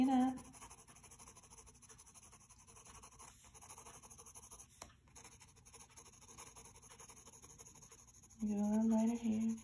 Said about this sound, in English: I'm backing up the pencil, lightening it up.